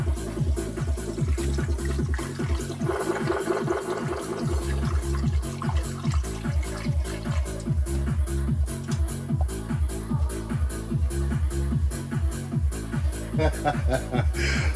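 Water pours and splashes into the cooling system of a Ford Escort Cosworth in a steady, continuous trickle. A rhythmic engine-like thumping runs underneath, and someone talks over it.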